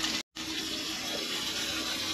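Warm water running and splashing down a drain, a steady close gushing flow with one brief dropout near the start, no talking.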